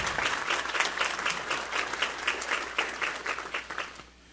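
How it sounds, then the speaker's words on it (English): An audience at a state luncheon breaks into a steady round of applause, dense clapping that holds for several seconds and thins out toward the end. "Could we give them a quick round of applause for their support?"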